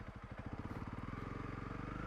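A Honda CRF 300 Rally motorcycle rides a sandy road, its single-cylinder engine chugging in a steady, close pulse that quickens and smooths out as the bike picks up pace, with no talking.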